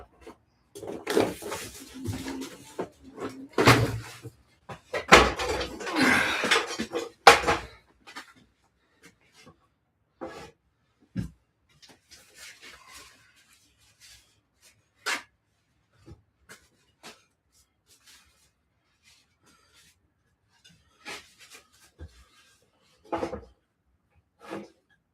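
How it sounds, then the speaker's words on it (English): Tools and items put back into wooden drawers in a workshop after making a bardiche halberd: a burst of clattering, rubbing and sliding early on, then scattered sharp knocks and taps spaced apart amid quiet. "let's get it back in the drawers."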